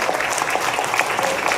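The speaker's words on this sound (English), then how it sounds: "I got a round of applause for the first question." A convention panel audience gives a short burst of steady, moderately loud clapping.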